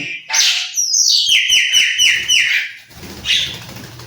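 A common myna calls up close, giving a loud run of rapid, whistled chirps that rise and fall for a few seconds, then a short pause and one more brief call.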